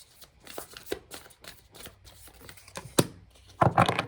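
Tarot cards shuffled by hand in a quiet room, a run of soft riffling flutters and taps that builds to a louder, denser burst of shuffling near the end.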